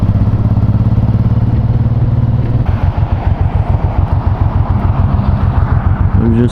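A Honda VTX1800 motorcycle engine idles close by with a steady low rumble, then shifts to a choppier, pulsing chug as the bike is parked near a car.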